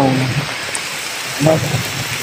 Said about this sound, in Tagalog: Kasi malakas yung ulan mga partners